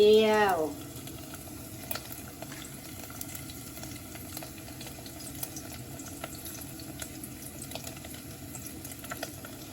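Sun-dried Thai pork deep frying in hot oil, a steady dense crackle and sizzle that runs throughout, with a brief louder splash or clatter right at the start.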